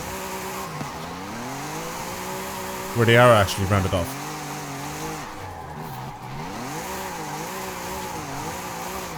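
Race car in Forza Horizon 5 on a custom city circuit, engine droning and climbing through the gears with a short loud tire squeal mid-lap, all under steady commentary from someone talking over it.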